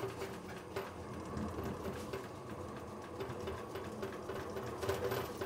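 A Vevor electric honey extractor spins at speed, giving a continuous close mechanical whirring drone with a rhythmic rattle as the drum turns and the machine bucks slightly on the floor.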